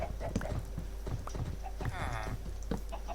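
A Minecraft skeleton horse clip-clops along at a brisk, irregular trot, close and distinct, while a person keeps talking over the hoofbeats throughout.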